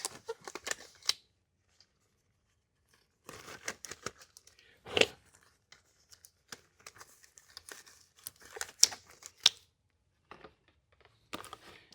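Crinkly rustling and snapping of protective gloves being pulled on before painting truck interior plastic, coming in short close bursts separated by quiet gaps.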